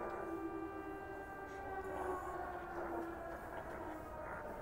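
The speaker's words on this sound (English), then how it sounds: "They got the purge siren going in the back." Purge siren in the video game Stray: a faint, sustained wailing tone drifting in the distance over a low ambient hum, with no talking.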